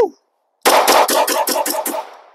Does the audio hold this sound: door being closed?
no